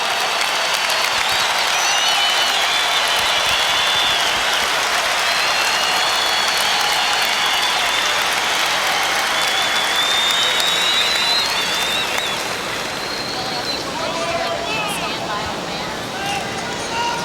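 Sustained, loud applause and cheering from a stadium crowd honoring Bob Hayes at a Dallas Cowboys Ring of Honor ceremony, a dense unbroken roar that fades slightly near the end.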